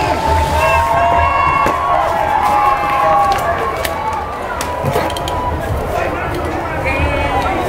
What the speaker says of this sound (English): Let's give a big round of applause for the Northampton Bruins